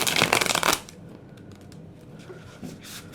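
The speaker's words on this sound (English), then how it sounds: "I'm going to shuffle one more time." A quick, riffling shuffle of tarot cards, crisp and close, followed by quiet handling and a few soft taps.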